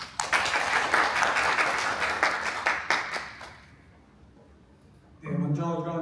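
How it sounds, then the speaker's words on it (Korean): A burst of applause from a crowd at a Korean medical symposium, dense clapping that fades out over a few seconds before a voice begins speaking. "박수 한번"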